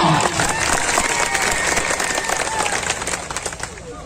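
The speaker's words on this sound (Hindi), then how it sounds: "उनके लिए जोरदार तालियां" Applause fills the air at a farmers' sit-in protest in Baran, a dense, continuous wash of many hands clapping from a large outdoor crowd, steady and fairly loud, tapering slightly toward the end.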